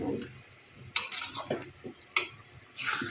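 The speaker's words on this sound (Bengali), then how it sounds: "ভালোভাবে নাড়াচাড়া দিয়ে দেবেন।" Olive pickle with date jaggery is stirred in a pan, soft scraping and a few sharp utensil knocks against the metal over a low sizzle, close and fairly quiet.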